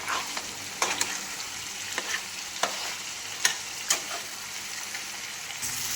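Chicken sautés in a pan with salt, a continuous close sizzle broken by repeated scraping stirs of a spatula at an uneven rhythm, with no voices.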